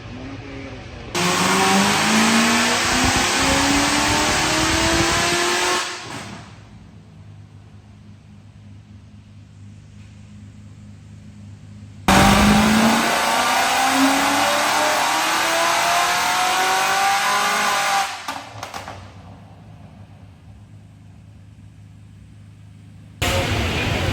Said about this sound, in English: So the second car is currently on the dyno.